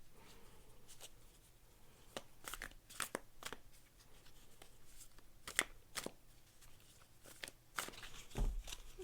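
A tarot card deck being shuffled by hand: a run of crisp, riffling card bursts and soft rustles at close range, irregular in rhythm, with no talking.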